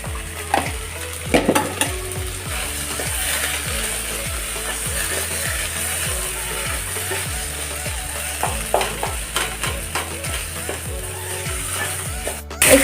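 Fish fries in hot oil seasoned with salt and turmeric, giving a loud steady sizzle broken by repeated scraping and stirring strokes of a spatula in the pan, with no talking.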